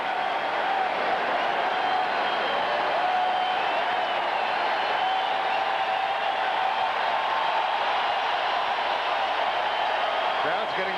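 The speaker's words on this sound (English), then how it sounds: "Crowd's getting rowdy" Rowdy crowd at a 1998 NFL football game between the Seattle Seahawks and Dallas Cowboys, a steady dense roar from the stands that holds level throughout, with a play-by-play voice talking over it.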